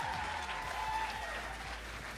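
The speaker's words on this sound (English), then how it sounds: "Let's also have a little clap of enthusiasm" Audience applause at a cosplay masquerade, a steady, fairly faint wash of clapping from a crowd that lasts the whole moment with no voices over it.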